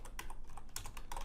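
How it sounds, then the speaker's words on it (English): Someone types briefly on a computer keyboard, a quick run of several close, light key clicks over faint background hiss. "If I can type it."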